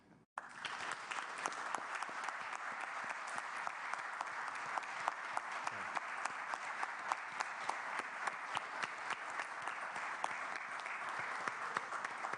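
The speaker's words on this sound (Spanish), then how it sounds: "pedirles por favor que entre todos tributemos un fuerte aplauso a Cristian Campos" Steady, dense applause from a conference audience for a speaker, sustained and even for the whole stretch with no voices above it.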